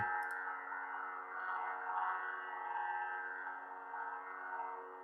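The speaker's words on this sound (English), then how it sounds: "You hear that sound, and now you can just twist the saber and cycle through different colors." A steady electronic hum with a buzzing, slightly wavering tone from a Graflex lightsaber with a Proffie board cycling through blade colours, quiet and continuous after a brief click at the start.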